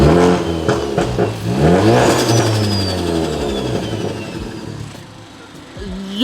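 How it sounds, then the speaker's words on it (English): A big-turbo Ford Focus ST with its blow-off valve removed revs up repeatedly, engine pitch rising and falling with turbo whoosh and a fluttering release, loud and close. "You're revving it."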